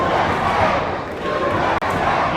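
A wrestling event crowd roars and cheers in a loud, continuous wash of voices, with a brief dip near the end before the noise swells back.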